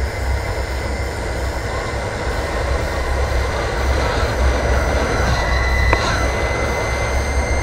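A water-cooled 4000 W electric skateboard being ridden fast, giving off a continuous jet-like whine over steady road rumble, loud and unbroken for the whole stretch.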